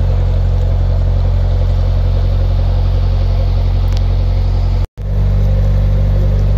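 An old bus on route number 52 drives past with a loud, steady low engine rumble close by, the sound briefly cutting out for an instant near the end.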